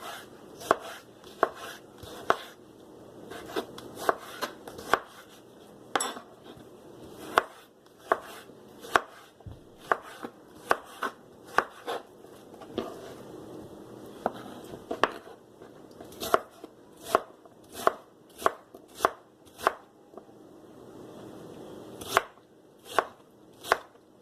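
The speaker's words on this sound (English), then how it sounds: "I like to cut it into strips" A knife slicing cucumber into strips on a cutting board, dozens of crisp, sharp chops in an uneven rhythm, close and clear with no talking.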